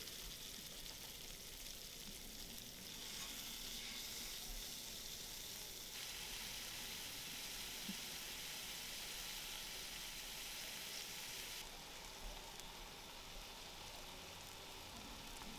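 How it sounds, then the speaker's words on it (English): Seasoned meat portions frying in a cast iron skillet, giving a continuous soft sizzle and crackle that holds steady throughout, faint and close with no voices. "I'm going to fry these up in my cast iron skillet"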